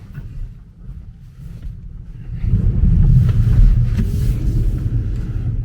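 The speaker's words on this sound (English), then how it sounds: "So hold on while we spin the tires. Let's pull out." A Tesla Model S P100D pulling away with tires spinning, half on dirt and half on pavement, starting as a low rumble and swelling into a heavier, louder roar of road and wind noise partway through.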